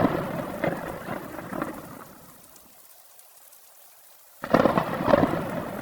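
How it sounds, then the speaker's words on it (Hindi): Heavy rain with thunder, a loud hissing downpour and rumble that fades almost to silence midway, then bursts back in abruptly at full strength. "तेजी से बारिश शुरू हो जाती है"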